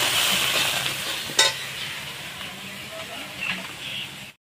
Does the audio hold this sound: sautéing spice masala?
yes